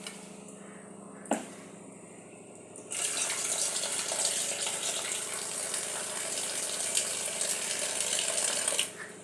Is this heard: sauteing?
no